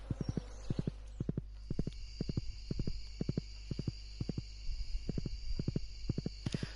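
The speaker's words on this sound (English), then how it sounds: "We'll jump on the horse, save our little legs" Horse hooves clip-clop steadily in Stardew Valley, a farming video game, with evenly spaced double-beat steps running throughout over a quiet ambient backdrop.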